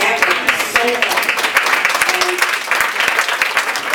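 Audience at a Lakewood Board of Education meeting breaks into steady, dense applause lasting a few seconds, with scattered voices mixed into the clapping.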